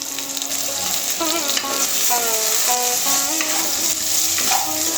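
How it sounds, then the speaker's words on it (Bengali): Potatoes frying in oil in a pan for a cabbage dish with hilsa fish head, a dense continuous sizzle heard close, with faint voices in the background and no clear stirring beats. "এবার আলুগুলো দিয়ে ভেজে নেব"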